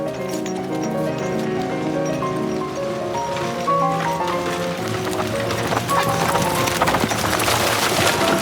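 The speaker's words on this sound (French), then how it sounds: "la princesse fut réveillée par le galop d'un cheval" A horse gallops with rhythmic clip-clop hoofbeats, steady and fairly close, set against a dense layer of period film music that runs throughout.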